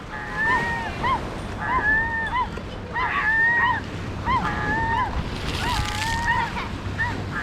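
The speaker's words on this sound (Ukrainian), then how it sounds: "Пара чайок тут влаштувала, такий шум і галас." Two seagulls squabble noisily at the shore in Stanley Park, Vancouver, trading repeated harsh calls in rhythmic bursts over steady wind and surf.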